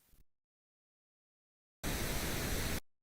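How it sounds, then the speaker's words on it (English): A pink noise test signal plays during a mixing and mastering session: a short faint blip, a stretch of silence, then a loud, flat burst of broadband hiss for about a second before cutting off. "Pink Noise."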